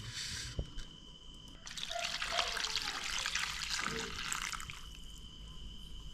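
Running water splashes steadily from a tap over crabs being washed for several seconds, starting after a short quieter stretch, with faint clinks beneath the flow.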